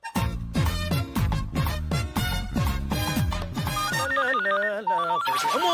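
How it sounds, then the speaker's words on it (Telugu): A telephone rings loudly and close, with a repeating electronic ringtone pattern of rapid tonal bursts that shifts into a sustained melodic phrase, heard alone without talking. "కిస్మత్ కుమార్, ఎంతసేపు అయ్యా ఫోన్ ఎత్తడానికి?"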